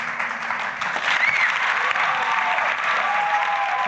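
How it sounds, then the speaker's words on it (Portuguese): A church audience applauds pastor Edilson in a steady, dense burst of clapping that holds at an even level for a few seconds, close and loud. "Uma salva de palmas para o nosso pastor Edilson."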